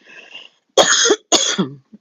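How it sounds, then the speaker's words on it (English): Two harsh, close coughs in quick succession, preceded by a faint breathy rasp. "sorry for the cough"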